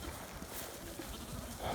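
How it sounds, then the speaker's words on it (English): A young Blue Face Leicester lamb in a farm field lets out a weak little bleat, faint and brief near the end, under a constant outdoor wind-like background. "One of these lambs has got a really weak little burr"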